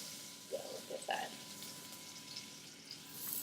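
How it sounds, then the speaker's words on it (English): Butter browns in a pan with a soft, quiet sizzle and a few brief louder crackles near the start, faint and steady, as someone speaks in a kitchen. "Sizzling."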